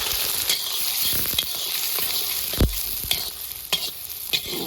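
Sliced onions and green chillies fry in oil with fenugreek seeds and cumin for a Malabari fish curry, a constant close sizzle broken by spatula scrapes and stirring knocks, without voices.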